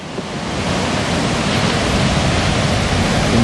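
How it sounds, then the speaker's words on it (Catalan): Sea waves at Alvor beach on the Algarve coast make a continuous loud rush of surf, a broad steady roar with no distinct breaks and no voices. "El mar està preciós."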